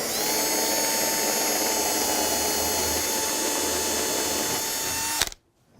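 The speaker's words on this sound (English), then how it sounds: "I'll drill a couple of holes here" A power drill whines steadily at high speed for several seconds, drilling holes in a wooden paddle, loud and close, then cuts off abruptly.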